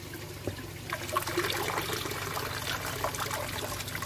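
Water trickles steadily in a garden pond water feature, a soft continuous splashing and dribbling, fairly faint and even, with a low background hum and no voices.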